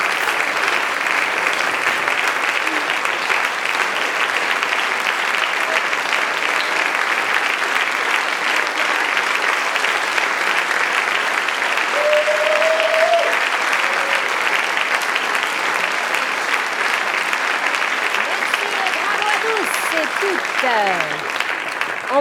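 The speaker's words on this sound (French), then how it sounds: "Venez prendre vos applaudissements." Sustained audience applause fills a performing arts awards ceremony hall, a steady dense wash of clapping from a large crowd that holds evenly loud throughout, with a few faint higher tones drifting through near the end.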